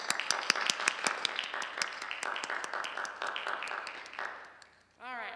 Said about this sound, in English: We're going to give them another round of applause.